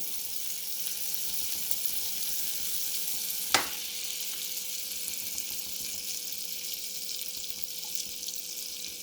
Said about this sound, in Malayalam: പാൻ ചൂടായി കിടക്കുവാണ് നമുക്കതിലേക്ക് ബട്ടർ ഇട്ട് കൊടുക്കാം ബട്ടർ മെൽറ്റായി വരുമ്പോഴത്തേക്ക് ഓയിൽ ഒഴിക്കാം